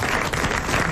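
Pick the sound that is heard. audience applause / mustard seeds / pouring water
audience applause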